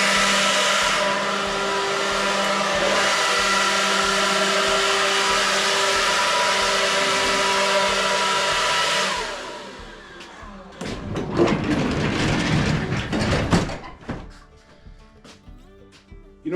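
A cheap battery-powered leaf blower from Amazon whirs loudly and steadily for about nine seconds, then shuts off, leaving scattered clatters, rustles and knocks nearby.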